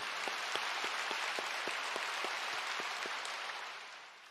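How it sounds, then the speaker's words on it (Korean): At a Full Gospel church communion service, a congregation claps in a steady rhythm of sharp beats over a hissing wash of applause. The sound is faint and distant and tapers off toward the end. "우리 하나님께 우리 영광과 감사의 박수 한 번 임힘하게 올려드립니다"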